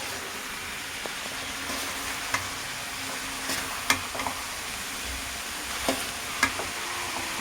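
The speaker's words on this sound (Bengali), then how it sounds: "আস্তে আস্তে নাড়াচাড়া করো, পড়ে যাবে" Chickpea curry being stirred in a cooking pot, with a steady low sizzle and a few faint scrapes and clinks spread through the stretch, the whole thing fairly quiet.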